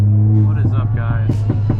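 Ford Fiesta ST engine droning steadily from inside the cabin on a drive, with a low constant hum and rhythmic pulses of revving, loud and close, as people talk and exclaim over it.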